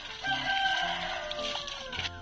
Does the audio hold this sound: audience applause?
no